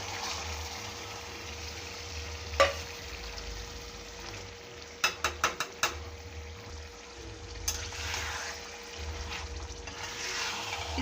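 Kaleji, goat or chicken liver, frying gently over low heat in well-roasted spicy masala, a steady soft sizzle with a few sharp clicks and taps of a spoon against the pot, no talking.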